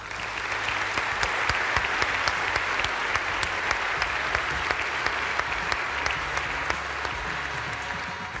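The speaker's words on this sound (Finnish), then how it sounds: "Mä haluaisin vielä kerran antaa valtavat aplodit meidän kaikille puhujille ja meidän tiimille" Sustained applause from an audience thanking the speakers and team at an evening event, steady dense clapping with no speech for the whole stretch.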